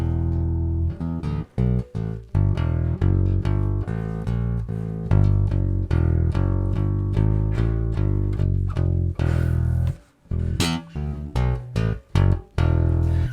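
A Glarry Music GP bass guitar played with a simple run of plucked notes, loud and close, with a steady rhythm and a brief gap near the end.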